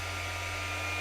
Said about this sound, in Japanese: 磨きを進め、塗装面全体を磨きました。